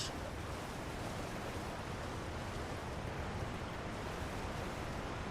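Steady, loud broadband rush of a waterfall in the video game Elden Ring, a continuous roaring wash of falling water heard close with no break across the whole stretch.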